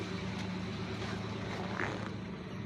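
A 2024 Toyota Wigo's engine idles roughly and shakes, fitted with new spark plugs; a steady low, throbbing hum runs without a break, close up and fairly quiet, with no talking over it.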